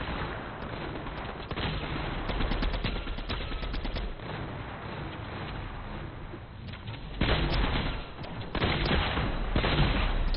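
Rapid, continuous gunfire in the video game Destiny 2, a dense stream of overlapping shots and impacts that keeps going with brief changes in intensity, loud and close, with no talking.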